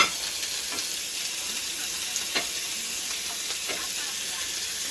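Thin, marinated, oiled steak sizzling on a grill, with a steady close-up hiss and crackle throughout and a few louder pops along the way.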